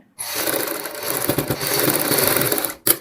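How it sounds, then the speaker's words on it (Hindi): A sewing machine runs at a steady fast clip stitching a kurti, a loud continuous mechanical whir that stops briefly then gives a short final burst. "यहाँ पे पक्की सिलाई करके धागे कटिंग करेंगे।"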